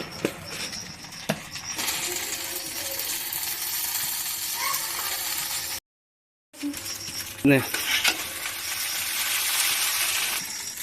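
Chowmein ingredients frying in a pan and being stirred, giving a steady close sizzling hiss with scattered metallic clinks and scrapes, briefly cut off midway before resuming.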